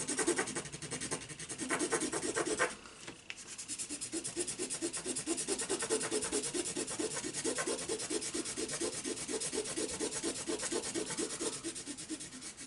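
A stick burnishes a rub-on transfer onto a book page, giving a steady, close scratchy rubbing made of quick back-and-forth strokes that carries on for most of the clip after one brief pause.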